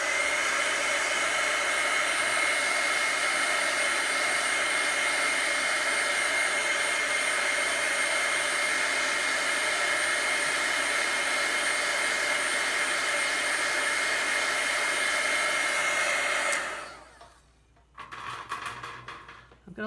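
A dryer blows steadily and loudly to dry green paint on galvanized tin, a constant close whoosh with a high whine that cuts off near the end, followed by a brief faint rustle.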